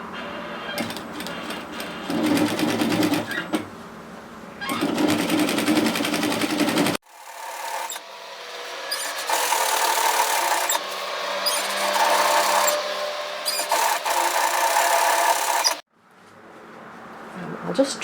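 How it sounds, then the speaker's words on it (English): Domestic sewing machine stitching binding tape onto a dress neckline, running in loud, fast whirring bursts separated by brief pauses, with a faint voice heard during parts of it. "we're just going to sew it onto the neckline like this."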